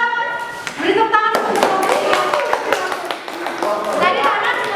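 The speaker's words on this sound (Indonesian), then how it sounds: "Beri tepuk tangan." A classroom of students claps during a school chemistry lesson, a burst of fairly close hand claps mixed with voices talking over and around it.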